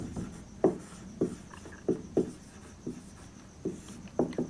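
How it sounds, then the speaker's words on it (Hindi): Pen on paper during a chemistry lesson, writing out a problem: close, scratchy strokes in short irregular bursts with brief pauses, and no talk. "जो क्वेश्चन में दिया हुआ है पहले उसको लिखते हैं"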